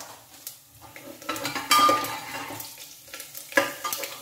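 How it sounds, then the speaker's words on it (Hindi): Fenugreek and cumin seeds crackle in hot oil in a pan, giving light popping and sizzling with several clinks and scrapes of a utensil against the pot. "क्रैकलिंग की आवाज आने लग गई है"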